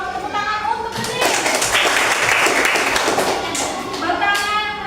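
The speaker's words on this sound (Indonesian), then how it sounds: "tepuk tangan untuk Bening" Schoolchildren clap for a classmate in a quick, close burst of applause that swells in the middle and then fades, with a teacher speaking before and after it.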